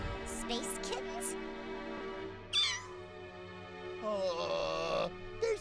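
Cartoon space kittens give a few short, high-pitched squeaky meows in a brief burst amid a busy animated soundtrack with music underneath.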